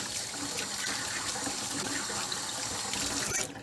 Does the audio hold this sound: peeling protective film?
no